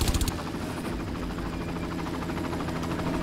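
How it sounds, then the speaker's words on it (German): An in-game helicopter in Far Cry thrums with a rapid rotor chop and a low engine drone, fairly loud and constant throughout, opening with a few heavier thumps. "Oh, dieser Helikopter, ne?"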